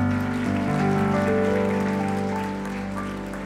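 Audience clapping at the 2023 National Prayer Breakfast, a dense, steady wash of applause that fades slightly toward the end, with sustained tonal music beneath it.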